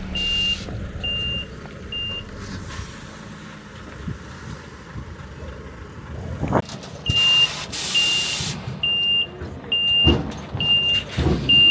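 A Volvo FH16 650 truck with a trailer attached pulls away on a mountain transport run, with a rumbling engine surging forward and regular high reversing-style beeps sounding in repeated bursts.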